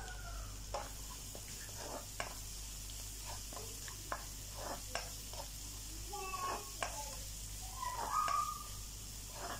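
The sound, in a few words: spices frying and sizzling in a pan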